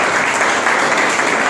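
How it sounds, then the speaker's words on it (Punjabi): A studio audience at a youth discussion on the 2019 Lok Sabha elections breaks into loud, dense clapping that holds evenly for the whole moment. "ਤਾੜੀਆਂ ਮਾਰ ਦਿੱਤਾ"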